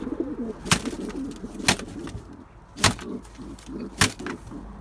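Soft, repeated pigeon cooing in a low rhythmic pattern, broken by a few sharp knocks or taps. Close by, with no talking.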